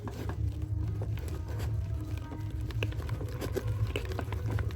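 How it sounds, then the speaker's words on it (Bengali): Gram flour batter seasoned with salt is whisked by hand in a bowl for aubergine fritters, giving a soft, rapid, uneven patter of clicks and slaps that stays steady and close, with no talking. "এবার বেসনটা আমাকে এরকমভাবে ভালো করে একটু ফেটে নিতে হবে।"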